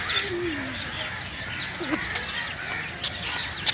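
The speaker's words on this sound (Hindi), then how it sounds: "कौवे देखो कितने जमा हो रहे हैं।" Crows at a zoo, a few harsh caws and scattered bird calls against a busy outdoor background, brief and moderately near.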